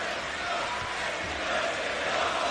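A wrestling arena crowd roars in a dense, steady wall of cheering and chanting throughout, loud and continuous with no breaks.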